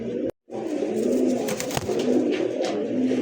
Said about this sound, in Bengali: এটা হচ্ছে বড় পায়রা কবুতর